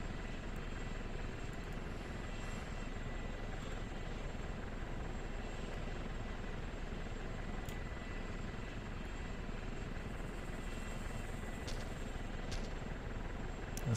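A helicopter's rotors in the DayZ OverPoch video game give a steady, even drone that holds for the whole stretch at moderate distance, with faint clicks from game action on top.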